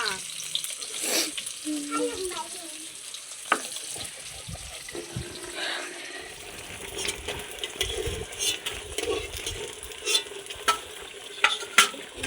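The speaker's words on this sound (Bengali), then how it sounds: "বাকি মাছগুলো ভেজে নেবো" Koi fish frying in a pan, a close sizzle broken by spatula scrapes and clicks, with running water and a brief voice in the background early on.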